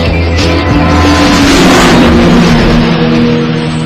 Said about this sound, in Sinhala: වාහනයක් ගිය දැක්කද?